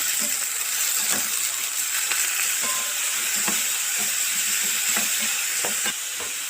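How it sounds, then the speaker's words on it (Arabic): Minced meat frying with onion and garlic in a pan, a steady close sizzle broken by scattered clicks and scrapes of stirring, with no voices. "وهنشوح البصلة والثومة، وبعدين ننزل باللحمة المفرومة"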